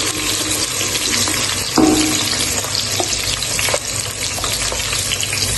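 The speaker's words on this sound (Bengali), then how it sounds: "পেঁয়াজ কুচিগুলো ভালো করে ভেজে নিব" Chopped onions fry in hot oil with black cumin and whole cumin seeds while a Bengali bottle gourd and prawn curry is being cooked. A steady, loud sizzle runs throughout, with occasional stirring scrapes close up and no talking.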